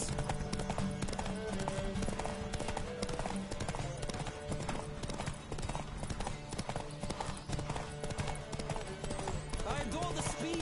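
Rapid hoofbeats of a galloping horse in the video game The Witcher 3 pound continuously under a busy mix of game sounds and voices, loud and steady throughout.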